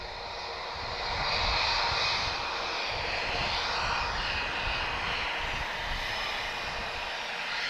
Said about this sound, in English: That's an Avianca Dreamliner, hopefully we're capturing that.